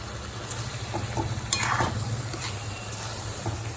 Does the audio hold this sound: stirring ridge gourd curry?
yes